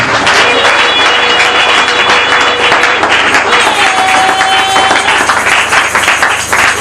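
A church congregation breaks into loud, sustained applause and acclamations, a thick wall of clapping mixed with crowd voices that stays strong and even for several seconds.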